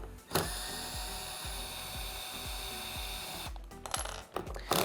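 Two 5/16 screws come out of the pedal on a Vacuflush marine toilet base under a steady, close power-driver whir with a rhythmic ratcheting pulse, then a few clicks and handling sounds.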